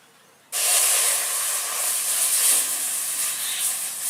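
Milk heating in a pot on a stove for mug puli pitha, a loud steady hiss that starts abruptly and holds steady, close by, with no talk over it.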